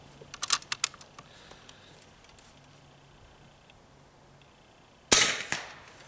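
A Hatsan big bore air rifle fires a single sharp, loud shot near the end, following some light clicking and handling noises in an otherwise quiet setting.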